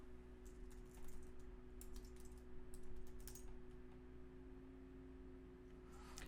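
Quiet keyboard typing in short bursts of clicky keystrokes over a low steady hum, close and faint, with no voices.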